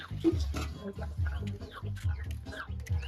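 Chickens cluck in a steady, busy stream of short calls close by, with a low rumble of background noise underneath.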